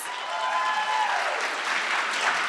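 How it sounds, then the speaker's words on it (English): An audience at a poetry slam event applauds a poet, full steady clapping from a crowd in a room that holds at an even loudness throughout, with a faint tonal hum beneath early on. "So let's give Bethany an extra round of applause."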